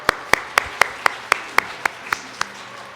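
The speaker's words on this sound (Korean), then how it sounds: "박수 한번 칩시다." A church congregation during a Sunday morning service claps in unison, about ten sharp, evenly spaced claps in a steady rhythm, close and clear.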